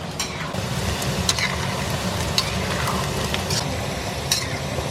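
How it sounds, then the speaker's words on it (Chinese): Lychee pork pieces deep-frying in hot oil over medium heat, a steady dense sizzle and bubbling that holds evenly throughout with occasional faint clinks, close and alone without talk. "差不多中火，我们炸了5分钟"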